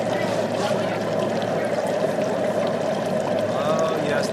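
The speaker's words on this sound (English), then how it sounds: "This is us frying a turkey on Thanksgiving." A turkey deep-frying in hot oil on Thanksgiving bubbles and sizzles in a dense, steady roar that holds at the same loudness throughout, close and continuous.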